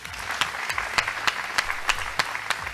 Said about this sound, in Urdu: ان کے لیے تالیاں ہونی چاہیے